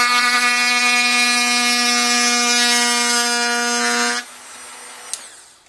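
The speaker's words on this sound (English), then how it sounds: "trace the crack with the rotary tool and open up a groove right along the crack" A rotary tool grinds a groove along a crack in a plastic motorcycle fairing, a loud steady high-pitched whine for about four seconds, then the tool spins down and a quieter hiss lingers with a faint tap.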